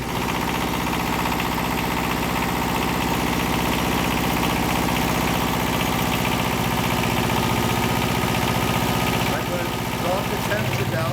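An aircraft auxiliary power unit running in AC mode, a steady loud mechanical drone with a constant low hum throughout, shifting slightly near the end as the load changes.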